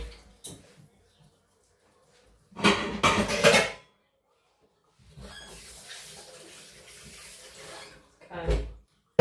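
Dishes clatter loudly in a sink, then a tap runs steadily with light scraping as items are rinsed, ending with another brief knock of crockery.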